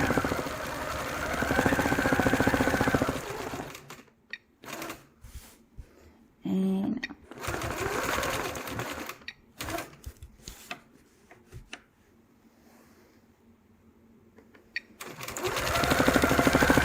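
A sewing machine runs free motion quilting with ruler work and variegated thread, starting in steady whirring runs, then breaking into short stop-start bursts with quiet gaps before a final sustained stretch.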